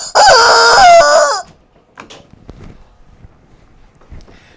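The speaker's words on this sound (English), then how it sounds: "This little chicken. He gets on my nerves." A small chicken gives one loud, close crow that lasts about a second. Faint scattered clucks and soft background noises follow in a quiet room.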